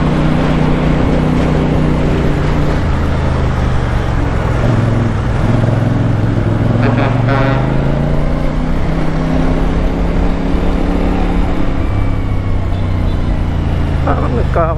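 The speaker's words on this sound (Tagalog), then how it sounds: "Parang nagkakagulo mga sasakyan dito." Busy road traffic in the city, heard while riding a CFMOTO CLC450 motorcycle. A constant loud rumble of engines and wind, with vehicles passing close by, runs throughout while someone talks over it.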